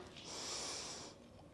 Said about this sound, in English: Inhale down, you can hear me breathing